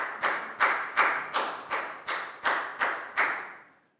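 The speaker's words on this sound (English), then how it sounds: "High five and a big round of applause for Dan" A small classroom group claps in a steady rhythm for a Year 4 student named Dan, about nine distinct beats each fading quickly, close and fairly quiet with no talking.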